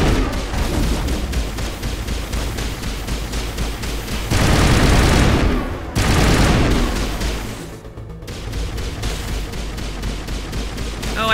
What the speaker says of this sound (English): you two like to shoot at walls